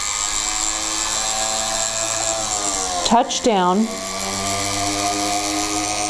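A foot-pedal rotary drill bores into a stone dipped in water, with a steady, close mechanical whine. The pitch bends sharply as the bit touches down, and a voice speaks briefly over it.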